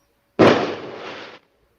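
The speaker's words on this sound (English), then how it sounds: "is that my house with the firecrackers?" Firecrackers set off in a residential neighborhood, heard as one sharp, loud burst that trails into a dense crackling roll lasting about a second, then cuts to silence.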